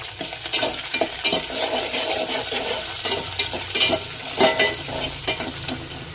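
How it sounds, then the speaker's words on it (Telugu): Dried red chillies, garlic and curry leaves fry in hot oil with a loud, steady crackling sizzle, broken by repeated stirring scrapes close by. "ఎండుమిర్చి ఎల్లిగడ్డలు కరివేపాకు వేసుకొని వేయించుకోవాలి"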